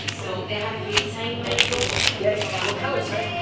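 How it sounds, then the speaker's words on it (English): A pack of playing cards is shuffled close by at a scooter festival, with a soft, riffling flutter running steadily for a few seconds under faint background chatter. "Give it a nice shuffle."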